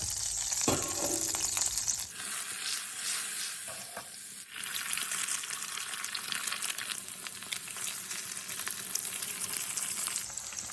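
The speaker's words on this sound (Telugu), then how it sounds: "ఇందులో కొంచెం బటర్ ప్లస్ ఆయిల్ కూడా వేసుకుందాం" Butter and oil sizzle loudly in a pan while egg fried rice is made, a steady bright frying hiss running the full length with a brief stir or clatter near the start and no talking.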